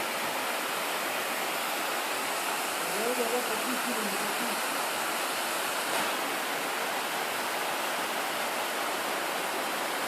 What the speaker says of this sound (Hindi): चश्मे का पानी आ रहा है।